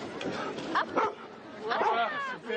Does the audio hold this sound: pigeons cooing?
no